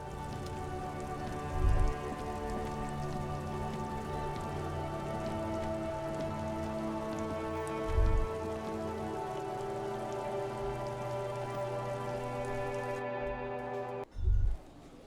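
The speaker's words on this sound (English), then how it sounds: "Stuck in the rain in a traffic jam." Steady rain falls in the video game Disco Elysium, a dense continuous patter under a droning musical hum, with a few soft low thuds at intervals.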